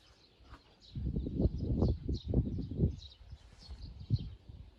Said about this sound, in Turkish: Bakın şimdi size sessizliği ve kuş seslerini dinleteceğim